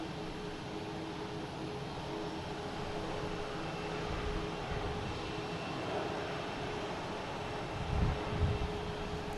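A JetBlue Airbus A321 jet roars at Boston Logan airport as a broad, steady engine rumble, loud and continuous, with a few low thumps near the end and no talk.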